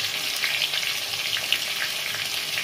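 Taro (kochu) fries in a pan with a steady, even sizzle, close and moderately loud, with no talk.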